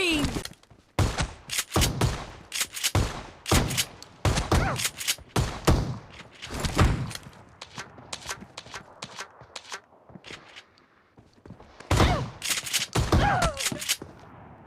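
Rapid bursts of shotgun and rifle fire in a team shooting video game, loud repeated blasts with pauses between volleys, with faint footsteps and game announcer callouts mixed in.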